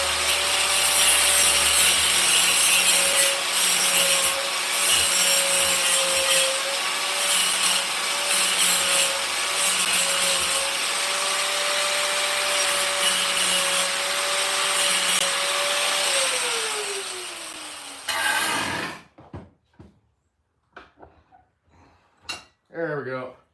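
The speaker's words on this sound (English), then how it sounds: "I could just grind the head of it off." A power grinder cuts the head off a stripped screw from a Turtle Racing RC servo saver, a loud steady whine lasting about eighteen seconds, then winding down and stopping, followed by a few faint clicks and handling sounds.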